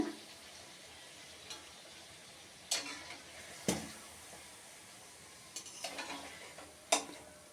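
Dhakai paratha frying in hot oil, a soft continuous sizzle broken by several sharp crackling pops and ticks as the dough puffs, close and fairly quiet.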